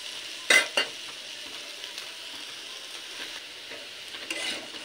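Spices with chilli and turmeric powder frying in a pan for a potato curry, a soft continuous sizzle broken by a couple of sharp scraping stirs early on and lighter utensil touches later.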